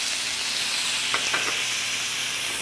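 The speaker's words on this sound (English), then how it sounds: "Now that we've lightly sauteed the bacon and just started to brown it, we're going to add the green apples." Bacon with green apples and cranberries sizzles steadily in a hot sauté pan, a close, continuous hiss with a few brief stirring scrapes and no talking.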